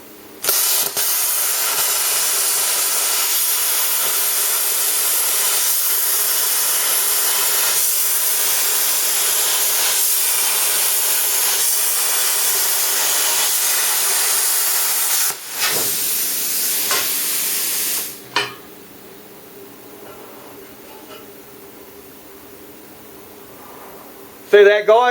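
A plasma cutter slices through metal with air at 100 psi, a loud, steady hiss that runs unbroken for about fifteen seconds, then breaks off, leaving quieter compressor noise and brief clicks.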